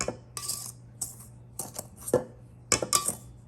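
A bowl of flour is whisked by hand, giving a quick series of close scraping, clinking strokes in irregular bursts with brief pauses between them.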